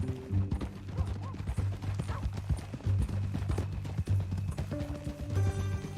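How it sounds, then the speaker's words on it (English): Horse hooves in Red Dead Redemption II, a steady rhythmic clip-clop of a walking horse heard close, with faint tack jingling and low in-game music beneath. "That a new horse?"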